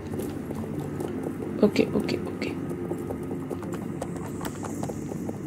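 Horse hooves clip-clop steadily in the online horse-riding game Star Stable Online, a white Akhal-Teke with black mane moving at an easy pace under game ambience, with a brief spoken word and a louder bump midway.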